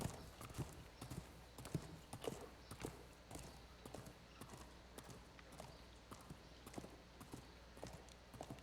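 In a video game, horse hooves clip-clop at a slow, steady walk, a run of evenly spaced, fairly quiet hoof strikes over a low background hum.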